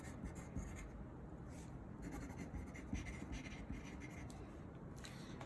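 A pencil scratches steadily across paper while a name is written on the back of a drawing sheet, a close, continuous soft rasp with small pauses between strokes and no voices.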